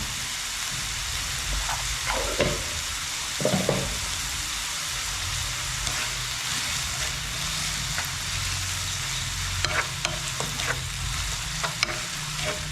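Eggplant frying in a pan, a steady bright sizzle throughout, with occasional scrapes and clinks as it is stirred, close and fairly loud.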